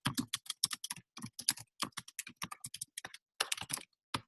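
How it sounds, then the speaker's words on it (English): Rapid typing on a computer keyboard, close and crisp, with irregular bursts of keystrokes and a few brief pauses, the clicks heard alone without any voice. "So you'd start typing whatever you want."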